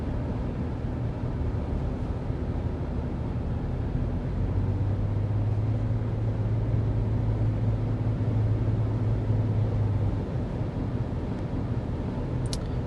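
Steady cabin road noise inside a 2023 Nissan Rogue Midnight Edition cruising at 55 mph, an even low rumble and tire hum with no talking.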